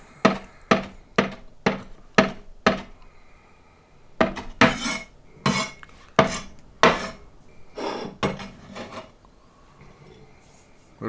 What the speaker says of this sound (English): So we just chop it up.